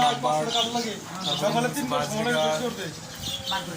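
Small caged birds, budgerigars and finches, chirp and twitter in a busy bird market, their calls running under steady nearby talking throughout.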